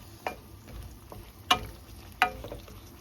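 Eggplant adobo with beans simmers in a pan, a low, faint bubbling sizzle broken by a few sharp utensil clinks against the pan.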